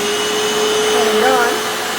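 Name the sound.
Hoover FloorMate Deluxe hard floor cleaner running on wash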